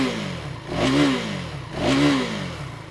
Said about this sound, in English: This is how the bike will sound if at all you get on the gas a bit harder